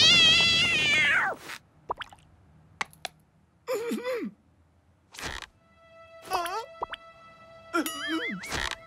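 A cartoon cat in the French animated series Zip Zip lets out several short, warbling meows in bursts separated by pauses, with a long opening yowl and light clicks between.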